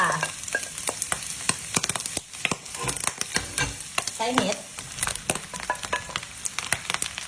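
Bacon and onion cook without oil in a pan for spaghetti carbonara, a bright continuous sizzle with repeated scraping stirs and clicks from a utensil, close and loud, no voices.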